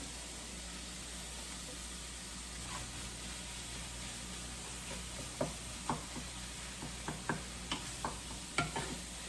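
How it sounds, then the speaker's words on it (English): Seasoned vegan quiche filling being stirred in a pan: a soft steady hiss with a run of scraping, clicking utensil strokes that turns rhythmic and more distinct partway through, close by, with no talking. "So I'm going to stir all of this up."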